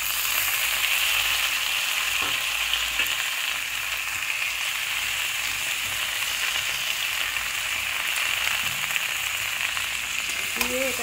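Vegetables fry in a pan for a Malabar spinach curry, giving a steady, close sizzling hiss that runs unbroken, with a few faint knocks from the pan.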